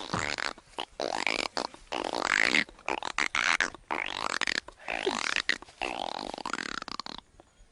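A boy imitates a frog's call with his voice, producing a run of raspy, croaking bursts separated by short gaps, loud and close throughout.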